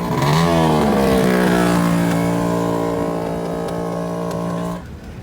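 A motorcycle at a bike rally revs hard and holds at a high pitch with its throttle stuck, a loud, sustained engine howl that rises, drones on, then drops off near the end.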